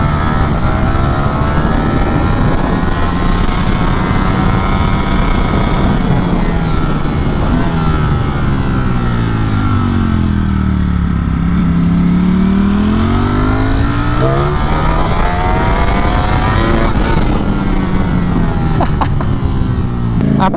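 Loud, continuous engine roar of a Ducati Streetfighter V4S motorcycle while riding, with pitch rising and falling through gear changes and wind noise throughout, no talk.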